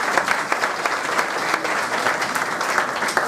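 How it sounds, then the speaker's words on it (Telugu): Steady, dense applause from a congregation at an Easter Sunday church worship service, sustained clapping at fairly even loudness throughout with no talk over it. "ప్రభు పేరట చప్పట్లు తనని అభినందిద్దామా?"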